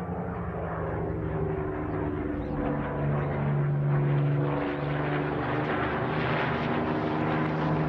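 Spitfire fighter plane flying aerobatics over English fields, its propeller engine droning steadily and swelling slightly in loudness as it passes, heard alone without talk.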